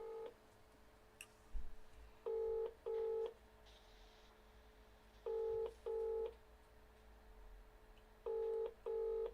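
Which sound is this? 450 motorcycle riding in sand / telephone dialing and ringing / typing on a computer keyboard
telephone dialing and ringing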